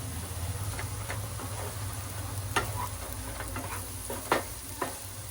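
Onion kachori stuffing with boiled potatoes being stirred in a pan, a soft steady scraping and faint sizzle with a few louder clinks of the spoon against the metal, no talking.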